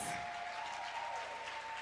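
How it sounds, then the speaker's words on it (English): An audience applauds a featured guest, Lynae Venee, at a Black feminism event, with steady, dense clapping close by and no one speaking over it. "Give a huge round of applause"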